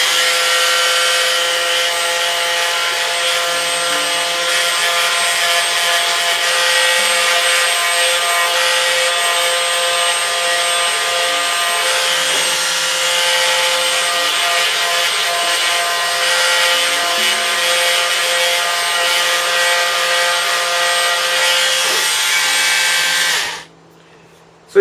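A Shadow of the Colossus sculpture surface is sanded with a steady, loud, whirring drone that holds unbroken for over twenty seconds before it cuts off abruptly.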